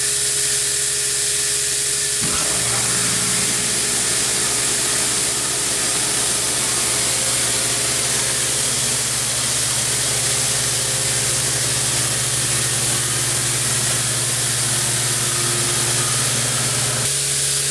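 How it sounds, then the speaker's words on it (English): A milking machine pump drives milk into a bulk tank with a loud, steady hiss and a low constant hum that cuts in after a brief quieter start and runs on unbroken. "After the holding jar gets full, it'll pump the milk through this line and into the bulk tank"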